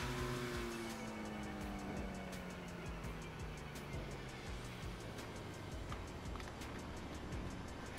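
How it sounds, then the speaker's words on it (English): A car engine in a GTA 5 stunt race strains and drones continuously at high revs, with shifting pitch sweeps and tire noise filling the whole stretch at steady loudness. "my car sounds like it's about to blow up"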